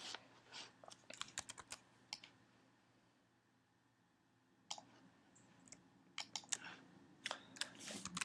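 Computer keyboard typing in short bursts of crisp key clicks, separated by a quiet pause mid-way, close and fairly faint, with no talk.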